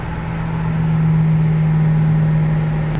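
A Ford 7.3 Powerstroke diesel truck engine lugs under heavy dyno load, giving a loud, steady low drone with a strong constant hum. A brief hiss or click sounds near the end.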